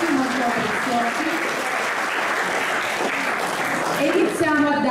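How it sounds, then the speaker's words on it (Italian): An audience at a sports awards evening in Melendugno applauds guests with dense clapping, fairly close, while a voice speaks over it. "E un altro grande applauso ai nostri ospiti"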